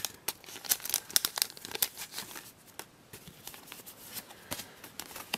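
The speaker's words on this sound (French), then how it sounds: "Petit coup de ciseau qui va bien." Scissors snip open a Japanese Pokémon XY8 booster pack, with close, crisp crinkling and tearing of the foil wrapper in irregular bursts.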